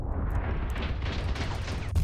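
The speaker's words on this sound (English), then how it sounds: "This guy's exploding!" Enemy vehicle blowing up during a Crossout battle, a sustained rumbling blast with dense low-end roar and crackling debris filling the whole moment at steady loudness.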